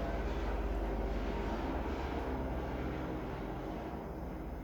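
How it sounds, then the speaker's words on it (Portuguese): Airplane passing overhead, heard as a broad, steady engine roar that stays loud throughout and eases off slightly toward the end, with no talking. "tem um avião passando"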